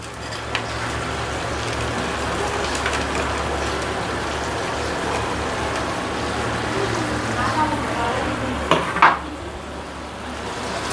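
Fried paneer cubes being stirred into a sizzling vegetable curry for biryani, a steady broadband frying hiss with scraping strokes throughout and a couple of louder clatters near the end.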